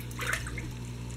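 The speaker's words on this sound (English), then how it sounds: "Now I'm just gonna fill it up with some water, cold water or" Cold water pours and splashes into an Odyssea CFS 500 canister filter for a turtle tank, a short steady gush close by over a low hum.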